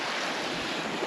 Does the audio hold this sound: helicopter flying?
no